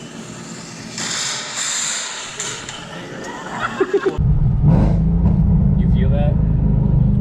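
A 2019 Ford Mustang with aftermarket headers revving, its deep engine rumble swelling loud and close after a quieter stretch, with people talking over it.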